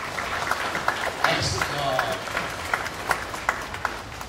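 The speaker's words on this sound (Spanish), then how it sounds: "Denle un aplauso a este chamaco, por favor." Audience claps for a boy at a religious gathering, a moderate, uneven round of applause with a voice calling out over it and nearby talk.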